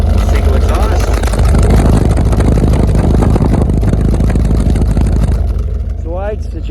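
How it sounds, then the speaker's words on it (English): A 1967 MG MGB GT with a 4-speed manual rumbles at idle through its single polished exhaust tip, a loud, close, low, steady burble that holds throughout and eases slightly near the end. "We're gonna have a little listen to the rumble here from the polished tip, single exhaust."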